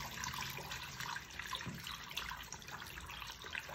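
Water poured into a bottle valve makes a steady, rushing splash that continues without a break, heard faint and a little distant with no talking.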